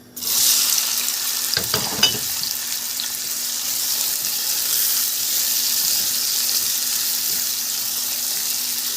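Two onions dropped into hot butter in a pan burst into a loud, steady sizzle, with a brief clatter as they land near the start, then an even hiss carrying on to the end.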